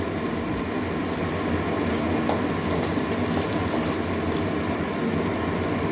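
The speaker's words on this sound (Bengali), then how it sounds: "আদাটা কিছুক্ষণের জন্য ভেজে নিচ্ছি।" Ginger frying in a pan for a cabbage curry gives a steady, continuous sizzle and crackle that holds at an even level throughout, with no talking.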